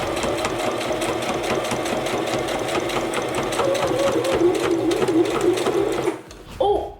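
A Brother Strong & Tough sewing machine stitching through eight layers of folded fabric at a hem runs with a loud, close, rapid mechanical chatter, then stops abruptly near the end and leaves a brief clunk.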